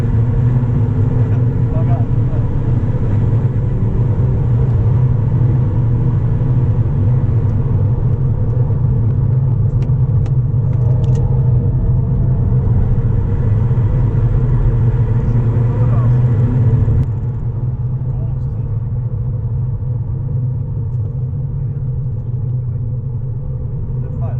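A MINI and a BMW lapping fast at a track day, with a steady loud engine drone and road rumble close up throughout; the roar eases slightly partway through.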